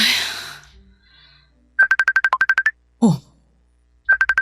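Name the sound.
phone ringtone, incoming call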